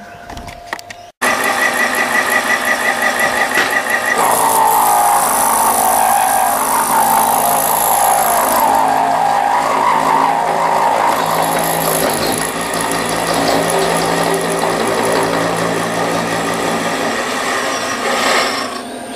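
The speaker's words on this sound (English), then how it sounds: "now we're just going to get the 10mm slot, T-slot cutter over here" A 10mm T-slot cutter milling along a slot in a metal part, giving a steady, loud mechanical grinding whir with a fine chattering texture that runs continuously after a brief quiet start.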